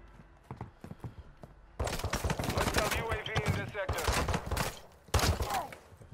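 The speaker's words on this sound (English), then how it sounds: "I hear a lot of footsteps." Footsteps in the first-person shooter Modern Warfare 2: a dense, rapid run of loud clattering impacts with sharp bursts that could be gunfire, starting after a quieter lead-in and continuing unevenly to the end.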